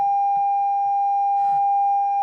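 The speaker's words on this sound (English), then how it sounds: "That's the test tone." Steady pure electronic test tone from a Hilltopper-20 radio kit on power-up, continuous and loud throughout, with faint background knocks and rustle beneath.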